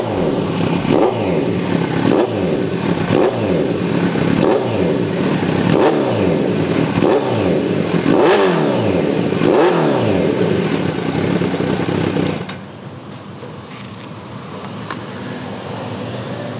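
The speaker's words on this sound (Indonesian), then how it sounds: "Nah, itu suara nyalanya dari SC Project dengan header titanium." Kawasaki Z900 with an SC Project exhaust and titanium header, loud and close, revved repeatedly in rising and falling bursts, then settling into a lower steady idle.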